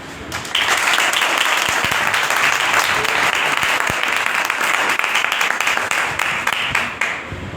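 A congregation at a gospel church service breaks into loud, sustained applause, many hands clapping densely for several seconds before the sound tapers off near the end.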